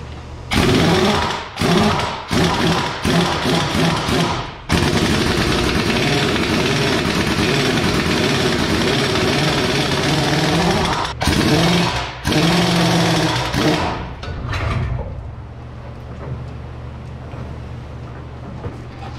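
Impact wrench or similar power tool rattles in loud bursts while unbolting an implement from a farm tractor, with short stop-start pulses, then a long sustained run, more bursts, and finally a quieter idling engine hum.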